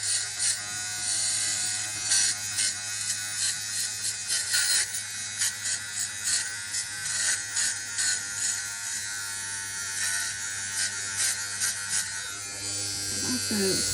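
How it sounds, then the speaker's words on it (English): Small electric shaver buzzing steadily close up as it defuzzes the yarn loops of a Cabbage Patch Kid doll's hair, a continuous high whine lasting throughout. "And tuck them in there. Little shaver."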